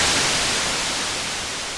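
Synthesized white noise used to build a snare drum, a steady broadband hiss like TV static that fades slightly as it decays, alone with no other sounds.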